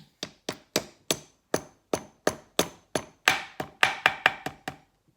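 A hammer taps a plastic part into place on a Stihl MS261 chainsaw in a steady rhythm, about fourteen sharp knocks close by, speeding up slightly toward the end.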